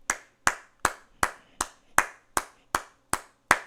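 A single person claps in an even, steady rhythm, about ten sharp close hand claps spaced roughly evenly, clean and alone with no voices.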